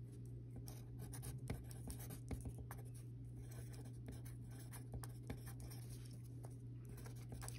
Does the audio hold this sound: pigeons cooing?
no